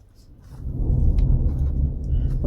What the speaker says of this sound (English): we're getting a storm too